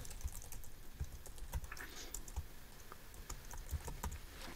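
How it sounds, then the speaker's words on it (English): Typing on a computer keyboard while building an Excel sales dashboard: a steady run of light, close key clicks with a few heavier strokes, over quiet room noise, with no talking. "So I'm going to type in here"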